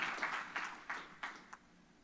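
Church congregation clapping during a sermon, heard as a handful of distinct bursts of applause spaced roughly a third of a second apart, fairly soft and fading after the last short burst.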